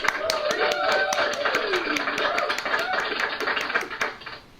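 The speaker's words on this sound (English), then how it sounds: "I want to give another round of applause" An audience claps in a quick, steady patter for several seconds, with a voice talking over the applause before it fades.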